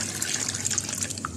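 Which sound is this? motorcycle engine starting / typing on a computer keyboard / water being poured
water being poured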